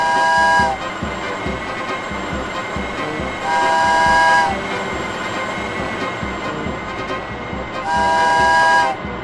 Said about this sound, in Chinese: 成功登陆到火车的运输托板后，火车再次拉响鸣笛，迅速出发了